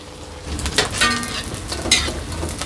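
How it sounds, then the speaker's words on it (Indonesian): Bakwan jagung, corn fritters, frying in hot oil in a home kitchen, giving a steady bubbling sizzle with a few louder crackles and light utensil scrapes, close and moderately loud. "Bakwan jagungnya juga hampir matang ini."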